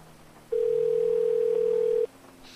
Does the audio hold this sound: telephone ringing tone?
yes